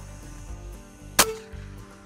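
One sharp, fairly close crack of a Hatsan BT65 pellet rifle fired at an armadillo at night, rising briefly over a steady background hum.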